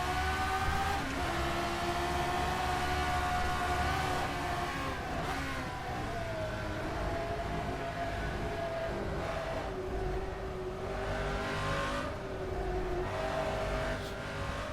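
A classic Formula 1 car in rFactor 2 screams along at high revs, with throttle blips and gear changes making the engine pitch rise and dip over a continuous, loud, close roar.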